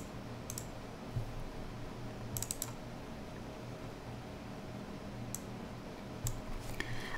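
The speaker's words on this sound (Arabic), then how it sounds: "اخترت موس كليك ساوند افكت من هذا الويب سايت مجانا من الانترنت" A handful of crisp, isolated mouse-click sound effects, short sharp ticks spaced irregularly a second or more apart over a quiet, faintly humming background.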